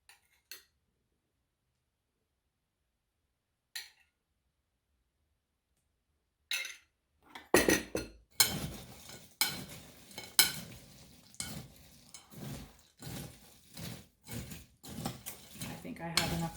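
Chex Mix being stirred with melted butter in a bowl, scraping and clinking spoon strokes in an irregular rhythm after a mostly quiet start with a few isolated taps.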